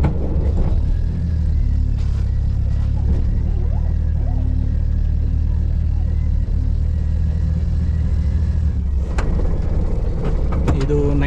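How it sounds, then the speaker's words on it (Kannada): A 1999 Maruti Omni van drives along with a steady low engine rumble and road noise throughout, a brief louder surge near the end, heard from inside the vehicle. "ಇವಾಗ ಹೊರತಾ ಇದ್ದೀವಿ, ಓಮ್ನಿನಲ್ಲಿ ಹೋಗ್ತಾ ಇದ್ದೀವಿ ತಗೊಂಬರೋದಕ್ಕೆ"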